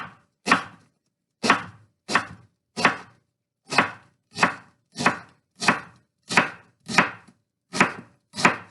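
A knife cutting leeks into quarter-inch slices on a board, about a dozen crisp, separate chops in an even rhythm, close and clear with nothing else heard.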